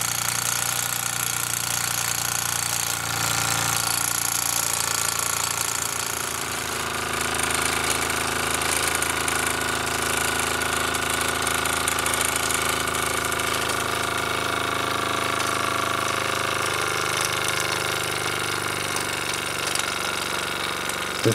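KMV overhead flywheel engine running continuously, a rapid, slightly uneven knocking chug with a steady mechanical drone, close and loud throughout with no talk.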